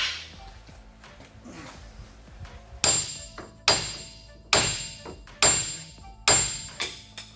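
A hammer strikes a screwdriver to drive out a wheel bearing part on a 2017 Ford Explorer, five sharp metallic blows spaced about a second apart, each ringing briefly, after quieter handling noises.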